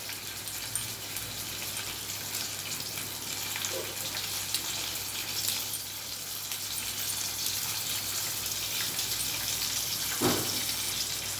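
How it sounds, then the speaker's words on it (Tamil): Ajwain leaves and fresh betel leaves sauté in a pan for a herbal kashayam, giving a steady, soft hiss and sizzle that runs evenly throughout with no talking. "இது நல்லா வதங்கட்டும்."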